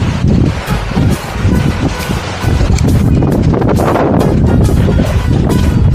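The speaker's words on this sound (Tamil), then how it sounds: "காற்று ரொம்ப அடிக்கும்" Strong wind buffeting the microphone on the Ramakkalmedu hilltop in Kerala, a loud, continuous roaring rumble with gusty surges throughout and no clear voices.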